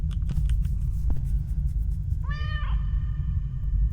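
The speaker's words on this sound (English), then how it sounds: "I love hearing her little meow as you run away." A short cat meow rises briefly over a constant low rumbling background in an indie horror video game, a single clear mew lasting about half a second with no talking.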